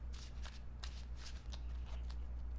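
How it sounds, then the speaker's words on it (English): Deck of playing cards being shuffled during a Marvel Champions card game, a series of quick riffling bursts close to the microphone over a steady low background hum. "That was a terrible shuffle, but okay."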